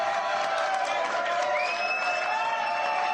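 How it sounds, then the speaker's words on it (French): A television studio audience applauds the host of a talk show, with even, continuous clapping and a few cheers at steady moderate volume. "Merci de m'applaudir."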